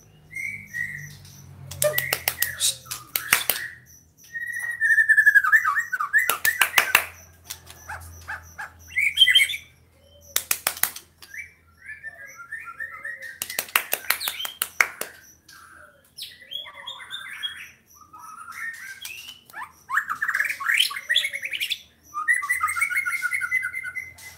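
A white-rumped shama, seven months old, sings loud, varied whistled phrases with chirps and rattling bursts, close up, separated by brief pauses.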